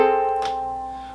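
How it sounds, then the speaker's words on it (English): A single ukulele chord, deliberately dissonant, rings out close and clear after a strum and decays slowly over about a second, alone with no voices. "So we'll hear a chord that sounds not too pretty when we strum it"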